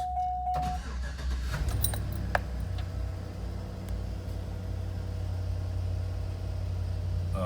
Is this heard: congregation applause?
no